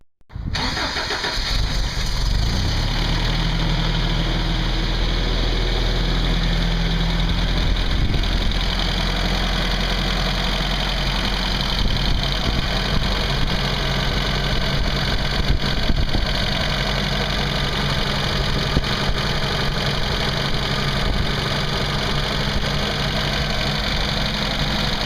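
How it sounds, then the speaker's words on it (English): A 1990 Toyota pickup four-cylinder engine, fresh plugs and wires fitted, starts at once and settles into a steady, continuous idle, close and loud with no talking. "So let's start this baby up."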